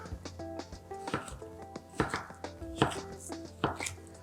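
Knife slicing a bell pepper on a chopping board for a hidden-vegetable pasta sauce, a series of crisp close chops landing in an uneven rhythm with no one speaking.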